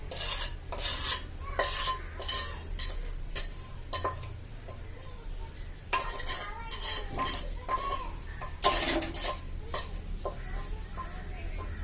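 A spoon or spatula scrapes and clinks in a wok while a homemade sweet with sugar syrup is stirred. Brisk, irregular strokes repeat over a soft sizzle.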